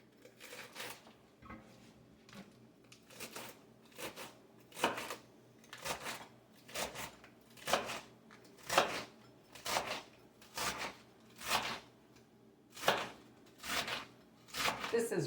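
Romaine lettuce is sliced with a knife on a board for a Cobb salad, a steady run of crisp, soft chops at an even rhythm, fairly close and quiet.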